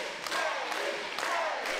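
Crowd at a wrestling show cheers and shouts for a wrestler, a dense roar of many voices sustained throughout.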